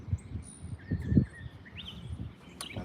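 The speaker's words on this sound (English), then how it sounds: "the birds are great here" Faint bird chirps and short tweets sound outdoors against low rumbling background noise, scattered across a few seconds.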